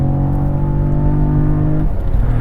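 Cadillac CT4 Blackwing engine, heard close and loud as a deep, steady rumbling drone with a low harmonic growl, which shifts and loosens near the end.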